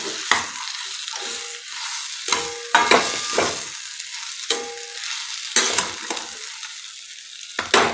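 Boiled, smashed potatoes sizzle and fry in a pan while being stirred, with scraping strokes recurring every second or so, close and moderately loud, without any voices.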